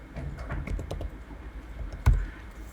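Computer keyboard typing in a classroom setting, a steady run of soft, quick keystrokes close by with one louder thump near the end, no voices over it.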